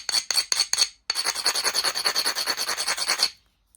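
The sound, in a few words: grinding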